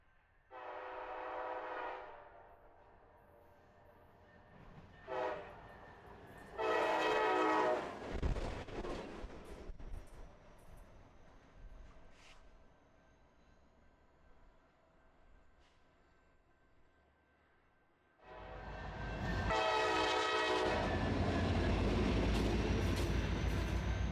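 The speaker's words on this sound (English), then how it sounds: "It only took a minute or so once those engines cleared for our empty coal train to throttle up" Canadian National diesel locomotives hauling an empty coal train in Kentucky rumble and rev up, with loud horn blasts at the start and a heavy engine roar building strongly near the end.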